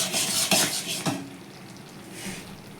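Tamarind being stirred into hot, cooked-down jaggery syrup, with a few scraping clatters of a spoon against the pot over a soft sizzle that fades to quiet.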